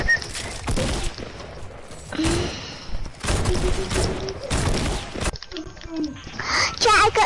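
Gunfire from the Fortnite video game on PS4, several bursts of rapid shots spread through the clip with people talking over and between them.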